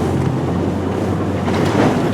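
Land Rover wading into deep water at the Land Rover Experience, Solihull, in December: a steady, close low rumble of engine and water churning with wind buffeting throughout, no voices.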